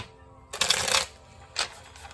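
Tarot cards shuffle in two brisk riffling bursts, close and crisp, separated by a short quiet pause.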